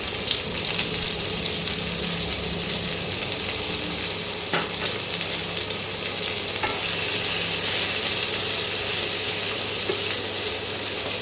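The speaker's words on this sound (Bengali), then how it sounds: "পেঁয়াজ কুচিটা একটু ভাজা ভাজা হোক" Chopped onion sizzling in hot oil with whole cumin tempering, a steady close frying hiss for the whole stretch with occasional stirring clinks.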